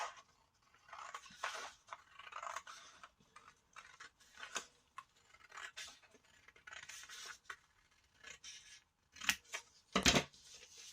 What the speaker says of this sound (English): And I'm going to cut this out. Again, I'm using nice thick paper for this.